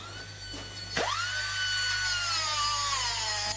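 An angle grinder grinds off spot welds on a Mercedes 410D van's leaf spring bracket. A sharp strike comes at one second, then a high, steady whine holds close and loud to the end.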